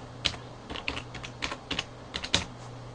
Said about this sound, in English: So I'm just going to type in restricted